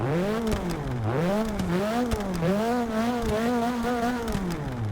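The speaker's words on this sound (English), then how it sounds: "It literally sounds like a little old rally car." Nissan Silvia engine in Forza Motorsport 6 revving repeatedly, pitch rising and falling in steady waves like an old rally car, loud and continuous with no talk.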